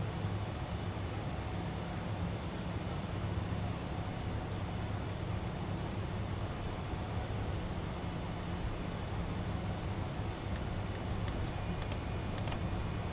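Steady jet engine drone from a Fokker F28 rolling along the taxiway to the runway in Microsoft Flight Simulator, a continuous even rumble with a thin high whine and a few faint clicks near the end.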